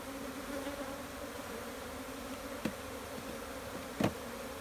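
Honeybees drone steadily at an open hive during frame handling, a continuous low buzz close by, with a couple of brief knocks from frames or tools.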